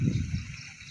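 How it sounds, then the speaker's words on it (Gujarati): Canal water on a farm flows with a soft, steady trickle and gurgle, faint and close, lasting under a second in rainy-weather surroundings. "પાણી જાય ફૂલે ફૂલ"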